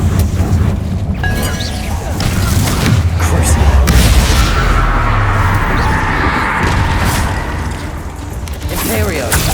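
A spell blast in a Hogwarts Legacy battle booms loudly amid dense combat noise, with heavy rumbling impacts and crashes layered under game effects over several seconds.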